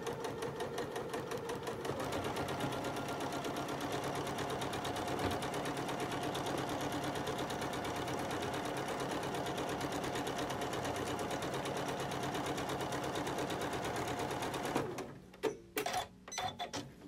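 A sewing machine runs a lock stitch seam on quilt block fabric, a steady rapid mechanical chatter for about fifteen seconds, then slowing into a few short bursts and clicks.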